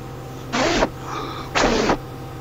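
Two short bursts of breathy blowing into a microphone in imitation of a train horn, each about a third of a second, close and harsh with a soft lower hum between them; no speech.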